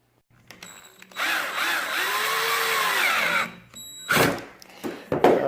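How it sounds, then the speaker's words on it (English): A power drill drives screws into a hinge on a wooden clothing drying rack, a loud, steady whirring run of about three seconds followed by several shorter bursts and squeals, close and with no talk. "I'm going to drill this in and I'll get back to you."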